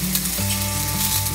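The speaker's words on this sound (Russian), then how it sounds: "И кладем на сковородку." A sausage sizzles steadily in a hot oiled pan, a dense, even crackle of frying fat with no speech.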